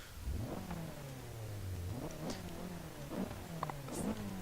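A Nissan Silvia S13 engine revs up and down repeatedly in Forza Horizon 3, rising and falling in pitch at mid volume, with a few small clicks, no voices.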